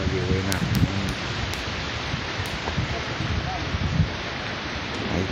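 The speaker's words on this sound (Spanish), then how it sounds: "y está lloviendo que se la pela, loco" Summer rain falls steadily outdoors at Baños Morales, a dense, even hiss that continues throughout with a voice briefly audible near the start.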